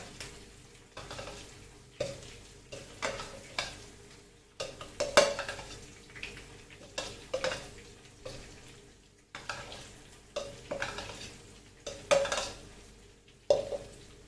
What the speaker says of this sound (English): And fry this masala nicely.